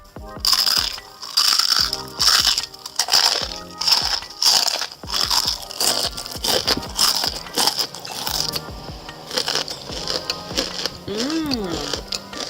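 Crispy fried bitter gourd chips are crunched while eating, loud and close, in repeated sharp bites and chews, with a brief voice near the end.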